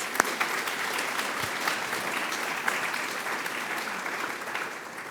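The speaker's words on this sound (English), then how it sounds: "Give them applause." Audience applause fills an award ceremony hall at the Carol Shields Prize for Fiction, a steady, dense wash of many hands clapping that holds evenly throughout.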